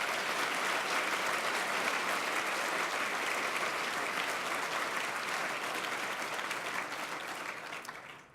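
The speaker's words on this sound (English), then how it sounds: "please join me in giving Walter a round of applause" Sustained applause from an audience at a university Founders Day medal ceremony, steady and fairly distant, tapering off at the end with no talking.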